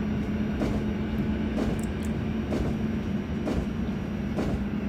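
An EN57 electric train accelerates in the MaSzyna train simulator game, a steady low rumble with a sustained motor hum and periodic rail clicks as it gathers speed.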